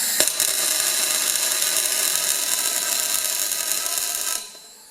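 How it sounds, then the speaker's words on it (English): An electric welder strikes an arc on a tractor rear axle during a Ferguson restoration, giving a steady, loud crackling buzz that runs for about four seconds before cutting off. "I'll just pull a little bit of an arc and see how many herbs we got going."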